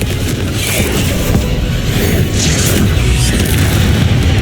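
Confringo explosive spell blasts in Hogwarts Legacy, a loud, dense run of booming impacts and crashing bursts that keeps going across the whole stretch, with no voices over the game sounds.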